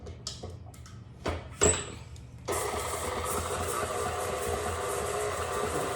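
A stand mixer fitted with a paddle switches on to cream oatmeal raisin cookie dough, following a few clicks and knocks of setup, then runs as a steady whirring hum close by.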